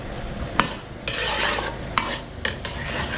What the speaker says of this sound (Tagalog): papupulayin lang natin itong bawang sibuyas natin